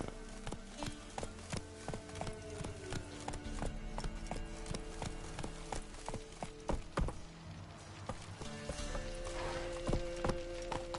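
Horse hooves clip-clop steadily in a video game, a brisk repeated rhythm of hard knocks close by with a brief whinny, a game soundtrack and ambient noise running beneath.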